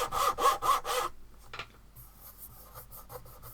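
A hand saw cuts a thin curve in wood in short rasping strokes, three loud pulls at first, then quieter intermittent scraping.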